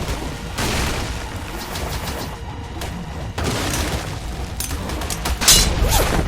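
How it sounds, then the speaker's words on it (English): Rapid, loud grenade explosions and booming blasts from the ARK video game, one dense barrage filling the whole stretch with repeated heavy bursts and no talking. "those grenades are the worst"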